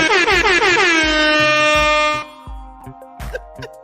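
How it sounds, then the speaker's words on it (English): A loud air horn blares a sustained note for about two seconds, followed by a few quieter, shorter bursts. "Give him his air horn."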